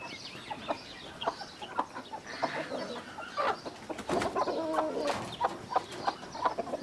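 An Aseel rooster near a hen in a village yard clucks in a run of short, close, repeated calls, some louder and more throaty, over faint rustling background.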